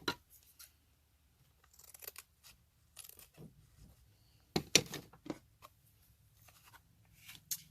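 Scissors cut paper for a junk journal, a few quiet close snips and crisp paper rustles scattered across the clip with short silences between them, with no talk.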